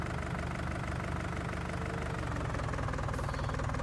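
A John Deere tractor engine idles steadily in a farming game, a constant low, throbbing rumble with faint knocking that never changes pace, no voices over it.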